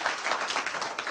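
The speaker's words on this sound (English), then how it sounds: "Let's have a round of applause for him." Audience applause at an in-person gathering, a steady wash of many hands clapping for about a second, moderately loud and continuous with no speech over it.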